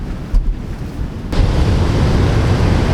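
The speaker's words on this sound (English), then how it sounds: "Yep, that's the Atlantic Ocean." Atlantic Ocean surf rolls onto a beach in a loud, continuous wash, with heavy wind buffeting the microphone and a brief dip before the roar swells again.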